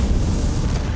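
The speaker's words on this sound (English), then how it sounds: "and an explosion occurs" A loud, close explosion in a film, a sustained deep rumbling boom filling the whole moment with heavy low-end roar and no speech.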